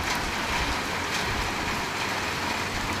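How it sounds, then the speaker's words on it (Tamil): Heavy, continuous rain pours down without a break, a dense steady hiss mixed with running water and flooding, close and loud throughout with no voices. "நேற்று 5 மணிலேருந்து விடாமல் மழை பெய்யுதுங்க"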